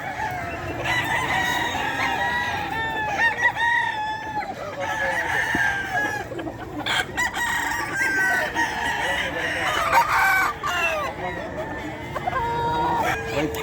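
A white Kelso rooster crows repeatedly at a busy pet market, its calls loud and near over steady crowd noise, other fowl clucking, and people talking nearby.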